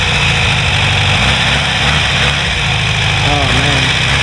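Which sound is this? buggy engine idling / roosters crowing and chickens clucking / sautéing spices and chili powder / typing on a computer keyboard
buggy engine idling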